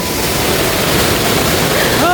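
Loud, constant rushing of a river being crossed close by, steady with no break and a brief faint voice at the very end.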